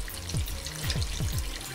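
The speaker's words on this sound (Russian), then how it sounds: "И потихонечку будем заливать это дело мыльным раствором." Soapy solution ladled slowly over copper coins with a perforated spoon, giving a soft, close liquid trickle with gentle gurgling pulses and no voices.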